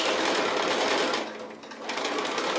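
A sewing machine stitches down a fabric strip pocket on a hanging pocket project. Its steady, close motor whir runs continuously and dips briefly in the middle.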